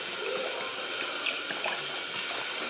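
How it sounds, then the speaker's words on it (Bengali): Water pours steadily and with a hiss into a pan of spiced cauliflower and fish curry, a constant close rush of sound with no voices. "এই দেখো বেশি করে জল দিয়ে দিলাম"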